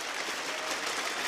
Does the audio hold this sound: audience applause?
yes